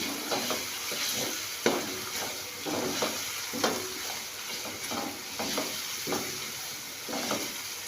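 Onions with garlic-ginger paste fry in a pan for beef nihari, giving a steady close sizzle broken by repeated scraping stir strokes.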